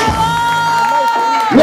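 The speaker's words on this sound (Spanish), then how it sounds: "Fuertes aplausos." Crowd cheering and applauding for the champion of an improvised rap battle at a live festival, a steady loud roar of whoops and shouts throughout.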